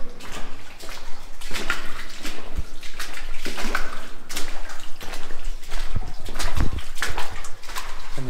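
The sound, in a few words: footsteps wading through a stream in a tunnel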